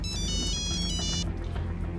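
An electronic telephone ringtone trills in rapid repeated bursts for about a second, then stops, leaving a low room hum and background bustle; no one speaks over it.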